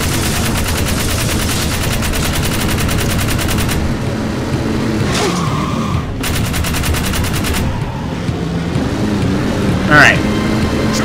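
Rapid gunfire from a weapon in the video game Jak 3, with long bursts of fast repeated shots that stop and restart, alongside game sound effects and someone talking.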